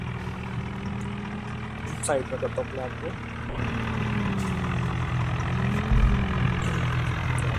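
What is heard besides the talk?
tractor engine running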